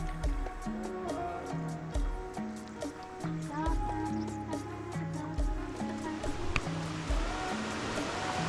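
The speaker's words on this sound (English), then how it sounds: "Waterfall number 1." Rushing water from a waterfall on a canoe trip, a steady broadband wash heard continuously under faint background music, with no clear talk.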